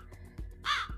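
Crows cawing outdoors, two or three harsh, fairly close calls in quick succession within a second, standing alone without talk.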